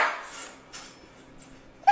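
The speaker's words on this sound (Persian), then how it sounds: "سگه هم صدا در میاره." A dog gives a few faint, short yips and whimpers spaced apart, ending with one sharper bark.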